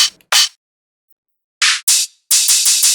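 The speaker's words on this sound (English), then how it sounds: "I want to find a nice open hat shot" An open hi-hat one-shot sample for a speed garage and rally house beat, played as crisp, bright cymbal hits: two short strikes, a pause, then two more and a quick run of four even repeats, loud and alone.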